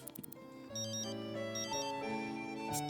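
A phone rings in The Sims 3 with a short, bright electronic melody of stepped tones, close and clear, after a few quick clicks.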